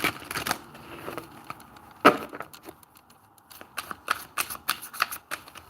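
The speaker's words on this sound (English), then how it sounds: "One more time, let me give this a good shuffle" Tarot cards are shuffled close up in quick, irregular bursts of crisp riffling and flicking, with soft taps and slaps between the bursts.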